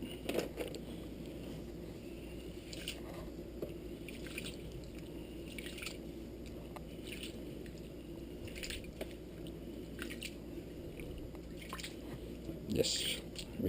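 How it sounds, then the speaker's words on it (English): Mung beans are swished and rinsed in water, soft, faint sloshing and dripping with occasional small splashes, while someone speaks quietly. "always rinse your mung beans"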